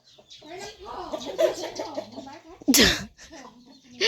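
A chicken being caught and released gives short clucks and a sharp squawk amid close, lively talking, with a sudden loud burst near the end.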